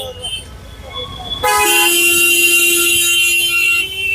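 A vehicle horn blares in a long, loud, steady honk after a stretch of traffic noise, with other horns faintly beneath.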